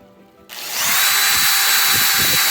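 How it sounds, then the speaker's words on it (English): A power drill bores a pilot hole for a screw in a DIY patio shade build, starting abruptly and running as a loud, steady high-pitched whir with grinding bursts for about two seconds. "I'm going to use a drill bit that's just a little bit smaller than my screw."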